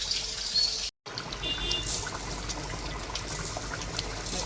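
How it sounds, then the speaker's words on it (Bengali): Washed polao rice is poured into chicken curry with a little broth for chicken biryani, giving a steady wet rushing, trickling pour, close and continuous, broken by one brief dropout. "এখানে যে ধুয়ে রাখা পোলাওয়ের চালটা অল্প ঝোল থাকা অবস্থায় আমরা ঢেলে দিচ্ছি।"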